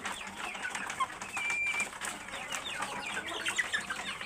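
Egg-laying hens cluck and chatter steadily at close range, many birds overlapping in a continuous busy flock noise with occasional sharper calls.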